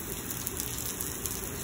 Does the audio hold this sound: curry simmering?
no